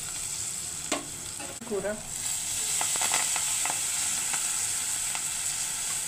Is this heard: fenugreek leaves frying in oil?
yes